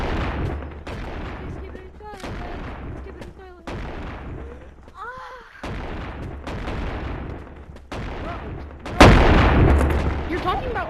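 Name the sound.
shotgun fire in the video game Animal Company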